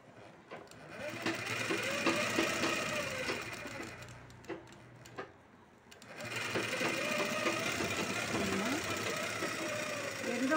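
A sewing machine runs in steady bursts while stitching a single-fold hem on a 40 inch blouse, pausing briefly around the middle before whirring on again, fairly quiet and close.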